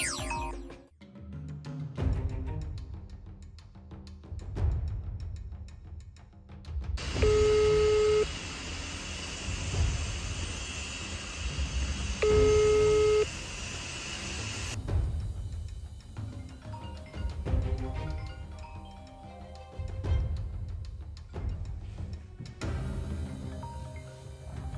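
A phone call rings out unanswered: two long, even ring tones about five seconds apart sound through an earpiece over a background of hiss and low rumble.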